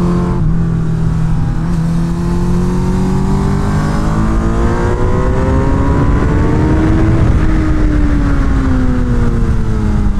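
A Suzuki Hayabusa motorcycle ridden fast on a race track at a track day: a loud, steady engine roar with pitch rising and falling through gears and throttle changes, close and continuous with no talk.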